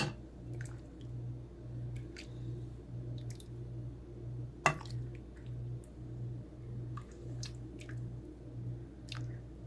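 Cooked red beans spooned onto a plate make soft, wet squishing sounds, faint and intermittent, with one brief sharp click midway over a steady low background hum.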